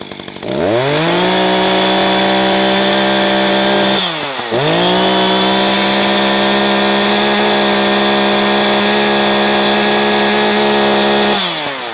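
An Echo CS-590 chainsaw revved to full throttle, screaming loud and close at a steady high pitch, briefly dropping off once before roaring back up to maximum again.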